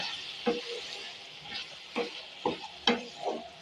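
A spoon stirs crushed fennel and cardamom powder into a sizzling bottle gourd and chana dal curry, giving about six scraping strokes spread over a few seconds against a soft frying hiss.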